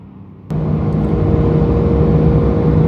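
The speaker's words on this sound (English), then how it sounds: "See if we can get a little of that exhaust howl going here." A car's engine and exhaust revving up toward 7,000 RPM while driving: a sudden onset into a sustained, loud, steady howl that holds through the rest with no talking.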